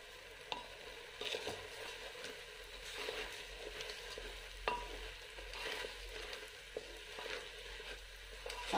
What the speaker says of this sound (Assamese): এতিয়া মই ভাল ধৰণে লৰাই দিম।